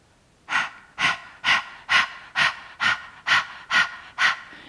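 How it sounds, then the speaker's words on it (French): Nine sharp, forceful nasal exhalations of Kapalabhati yoga breath of fire, evenly paced about half a second apart, close and clear with quiet passive inhales between and no talking. "la respiration de feu Kapalabhati en yoga"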